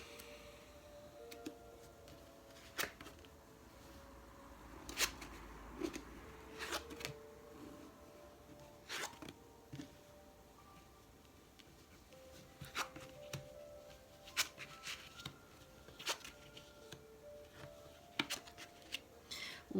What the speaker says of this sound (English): let me go ahead and flip the cards